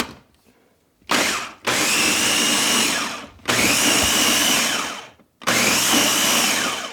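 Electric food chopper whirring through tomatoes for enchilada sauce in three loud, close bursts, each lasting a couple of seconds and separated by brief pauses.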